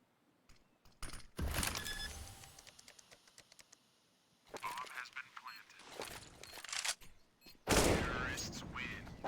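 Gunfire in Counter-Strike on the Inferno map during a tense late-round clutch, with sharp bursts of shots and rapid rattling fire in clusters amid game effects and a commentator talking over the action.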